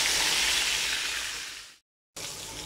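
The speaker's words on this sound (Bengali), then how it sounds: "তো মাছ ভাজা হয়েছে" Fish sizzles loudly in hot oil in a pan, a dense steady crackle that fades, drops out briefly, then returns just as strong.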